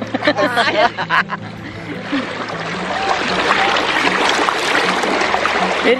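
Strong river current pours in a steady broadband rush that grows louder in the second half, with people talking and laughing over the water near the start.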